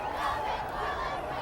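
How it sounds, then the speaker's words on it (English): A home crowd at a 2008 Bangor vs Lawrence high-school football game gives a sustained, distant cheering roar under a commentator's voice. "if you're Bangor, you can hear the crowd over there"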